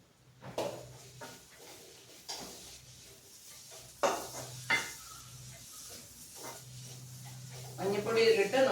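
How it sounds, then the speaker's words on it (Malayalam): Onion-based kootu curry with turmeric powder being stirred in a pan, giving a few sparse spoon-on-metal scrapes and clinks while a person talks over them. "നന്നായിട്ട് ഇളക്കി"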